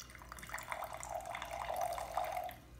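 Water is tipped out of a small semi-hydroponic plant container along with a coral frag, a soft continuous trickle and splash, close by and fairly quiet, with no talking.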